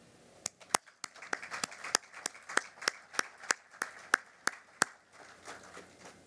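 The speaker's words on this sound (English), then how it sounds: "you deserve a big round of applause" Sparse, irregular handclaps from a small group honoring National Commodore Club members at a Hawkins Field topping-out ceremony, about a dozen sharp claps over several seconds with no talk.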